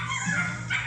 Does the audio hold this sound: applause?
no